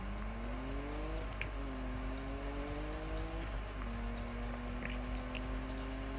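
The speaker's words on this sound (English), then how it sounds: "They've made the cars sound nice on this game." A car engine in the 2015 Need for Speed racing game revs and shifts, its pitch climbing in steady steps with each gear, droning continuously over a low rumble.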